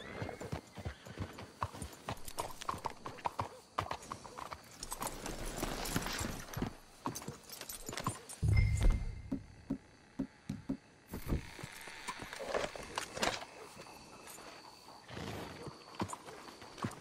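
Horse hooves clip-clop over the ground in a Red Dead Redemption 2 scene, a steady rhythm that rises and falls over about seventeen seconds, with a brief whinny and a thump near the middle and faint ambient sounds around.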